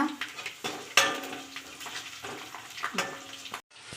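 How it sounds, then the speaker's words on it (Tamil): Garlic cloves, about fifteen to twenty, sautéing in a pan for a garlic curry, a close sizzle mixed with clattering metal scrapes and knocks of stirring that stop abruptly near the end, with a faint voice in the background. "பூண்டு ஒரு 15 இல்லை 20 பல் பூண்டு போட்டு நல்லா வதக்கிக்கோங்க"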